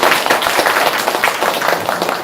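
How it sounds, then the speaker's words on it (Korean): Church congregation applauding their pastor during a Bible study session, a dense, steady wash of many hands clapping at once, loud and sustained throughout. "목사님 고마우시라 박수 한번."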